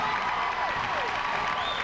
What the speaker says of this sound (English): Crowd appreciates his efforts.